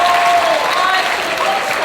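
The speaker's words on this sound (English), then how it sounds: "Do I get some applause for that?" A brief burst of clapping from a theatre audience at an amateur stage play, steady and moderately loud, with faint voices mixed in.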